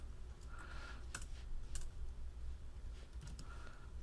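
Quiet bursts of keystrokes on a computer keyboard while building Pixi.js sprites, a few quick clusters of clicks and taps spread across a few seconds with no talk over them.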